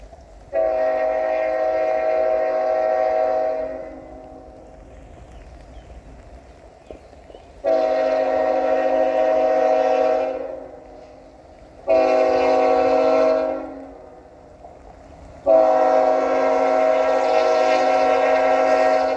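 CSX freight train Q415 led by a Tier 4 locomotive sounds its horn in four long, loud harmonic blasts with short gaps between them, while the train's rumble carries underneath.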